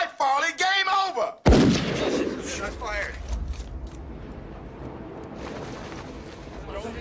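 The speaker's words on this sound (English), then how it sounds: "Shot fired." Single sharp gunshot cracks out loud and close in a tense hostage negotiation scene, cutting off shouting voices and leaving a long fading echo and rumble.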